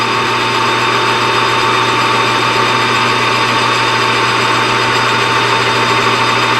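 A lathe turns a piece of stock from a scrap pile in a home shop with a loud, steady motor hum and machining drone, continuous and close, with no talking.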